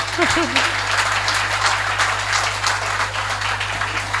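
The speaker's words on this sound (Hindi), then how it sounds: "तालियां आनंद के साथ बजाइए" A live audience at a comedy poetry show applauds with steady, dense clapping throughout, over a constant electrical hum and a brief voice near the start.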